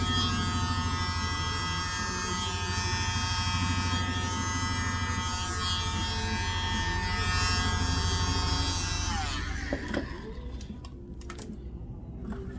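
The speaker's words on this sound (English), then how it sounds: "Then I use my handy dandy blower and just blow down." A mini blower runs steadily, pushing wet acrylic paint down a Christmas bauble in a bloom-style pour, its close, even motor whine holding for several seconds before stopping.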